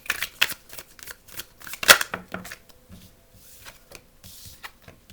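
Tarot cards are shuffled in quick riffling bursts and soft slaps, close and fairly loud, with a few sharper snaps and some quieter handling toward the end.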